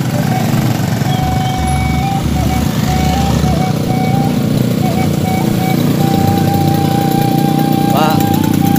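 A wedding convoy of twenty to thirty motorcycles in a village street, engines droning and idling together in a loud, continuous rumble, with voices talking over the noise throughout.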